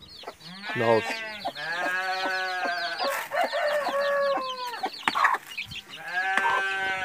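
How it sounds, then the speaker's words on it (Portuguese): Backyard poultry on a rural smallholding, a hen with her nine chicks, heard up close in a busy run of clucks and peeping chirps, joined by other farm animal calls, with a person talking over parts of it. "Tem uma galinha que tirou aqui, tá com 9 pintinhos."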